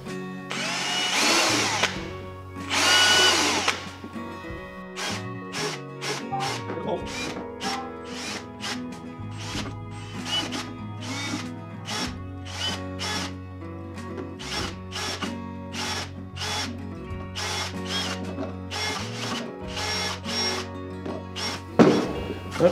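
Power drill with a bit already fitted boring several holes through a plastic bottle cap, a series of short whirring bursts repeated across the clip, close and loud, with louder grinding bursts at the start.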